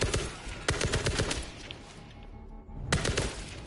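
Gunfire from players shooting zombies in World War Z, a rapid burst of loud close shots, a short lull, then another burst of firing.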